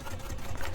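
A sewing machine stitching a vinyl travel belt, a quick faint mechanical whir with rapid, even stitch pulses over less than a second.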